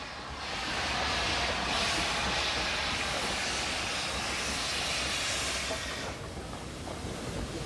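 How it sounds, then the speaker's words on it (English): A Japanese-built C-32 class 262 steam tank locomotive on an Indonesian railway gives a steady, broad mechanical roar that swells in, holds for several seconds, then eases off slightly, at moderate distance. "Left behind by the Japanese after World War II were a couple of these C-32 class 262 tanks, a typical Nippon product."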